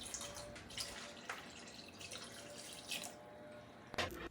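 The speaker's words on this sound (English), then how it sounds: "And so after I have put everything into the pot, I'm just gonna cover it with water and let it come up to a boil." Water from a tap pouring into a cooking pot of chiles, a steady faint splashing stream with small bursts, no voices.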